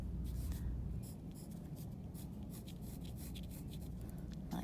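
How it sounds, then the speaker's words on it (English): A black pencil goes over outline lines on paper, a steady soft scratching that runs continuously at close range with no talk. "I'm gonna do my church outline, and I'm gonna use my black pencil again"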